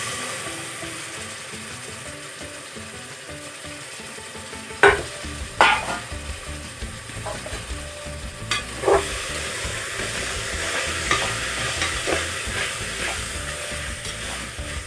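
One kilogram of chicken frying for biryani, a quiet hiss that jumps when the meat goes in, then a steady loud sizzle with clattering spoon stirs and scrapes throughout.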